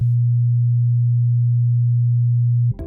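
A steady, pure 120 Hz sine test tone hums loud and unbroken for nearly three seconds, then cuts off abruptly into a brief burst of other sound at the end.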